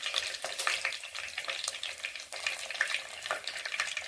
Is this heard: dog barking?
no